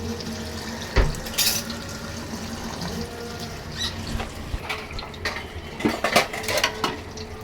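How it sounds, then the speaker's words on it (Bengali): Water pours into a cooking pot of chicken sautéing in spices, with a light splashing trickle, broken by a few metal clinks from the pot and utensils. "এখন আমি এখানে আরেকটু পানি দিয়ে দিব"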